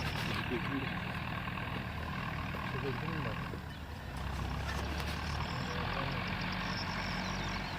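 A low, steady engine rumble of tractors working a field nearby, continuous throughout with faint background voices.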